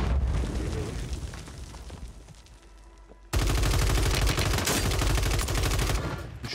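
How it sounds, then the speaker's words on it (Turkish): Rocket fire and explosions in Warzone 3.0 gameplay, a rumbling stretch of distant blasts followed by a sudden loud burst of rapid gunfire and booms continuing to the end. "Adam roket atıyor kanka."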